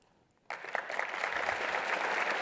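After a brief quiet moment, an audience at a Medal of Honor forum bursts into applause, the clapping jumping in suddenly and then building into a full, sustained round.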